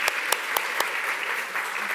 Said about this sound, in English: With a round of applause, please, for our speakers.